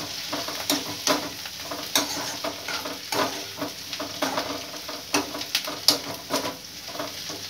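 Mutton fries in a pan for mutton sambar, with an even sizzle and repeated scraping clatter from stirring, close by and without voices.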